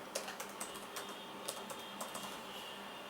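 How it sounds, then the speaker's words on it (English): Password keys tapped on a computer keyboard during a Linux install, a fairly quiet run of scattered, uneven clicks over about three seconds with no voice. "So let's say I will type a simple password"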